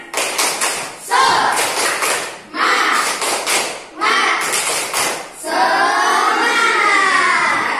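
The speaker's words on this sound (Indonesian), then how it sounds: "supaya semangat kita tepuk dulu ya. Oke ya. Tepuk semangat." Schoolchildren in a classroom clap a loud, rhythmic cheer clap in several bursts, with chanting voices over it and a drawn-out shouted cheer at the end.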